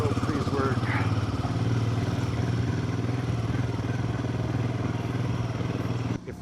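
A Himalayan 450 motorcycle with a sensor fault and misfire runs on a test ride, its steady engine drone and clatter continuous and close throughout, with a voice talking over it.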